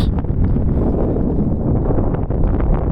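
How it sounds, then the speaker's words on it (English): Loud, continuous wind on a high mountain pass at about 16,300 feet rushes and rumbles against the microphone, gusting steadily for a few seconds with no voices. "It's very windy."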